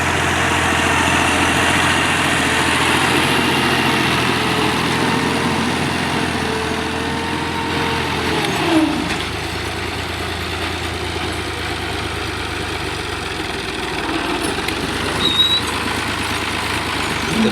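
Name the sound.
480 model tractor engine running in cotton field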